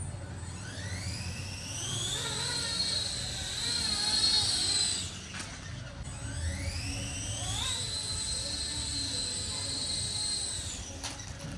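A 3D-printed RC helicopter with a flybar head spins up in a test flight, rotor and motor whine rising in pitch, dipping briefly, then climbing again, loud and steady against a low hum.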